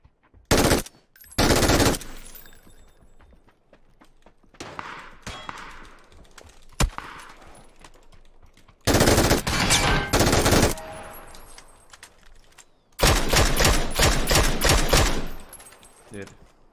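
Bursts of rapid automatic gunfire from a video game weapon come in three loud clusters, separated by quieter stretches of faint game sounds and brief clicks.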